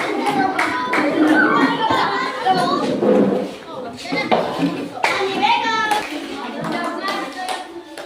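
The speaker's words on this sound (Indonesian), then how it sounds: "Oke, tepuk tangan." A classroom of children claps together in a burst of applause, mixed with lively kid chatter and voices throughout.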